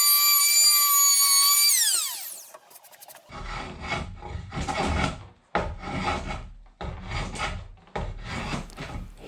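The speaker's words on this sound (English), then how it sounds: "Here I'm trimming up the live edge of the lid of the main box." A tool trims the live edge of a red oak box lid: a loud whine winds down, then a run of rough rasping, sanding strokes in uneven bursts, close and alone.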